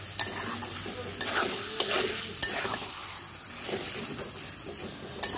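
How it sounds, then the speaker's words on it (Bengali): Mutton stir-fried in spice masala with whole onions in a pot for a Bengali mutton curry: a continuous sizzle broken by several sharp spatula scrapes and clanks, close and moderately loud, no talk. "এতে এবার আমি অ্যাড করে দিচ্ছি মাটনটাকে"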